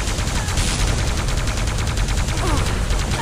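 Rapid plasma gun fire in a multiplayer arena shooter match, a dense, continuous stream of loud, close shots with no pauses.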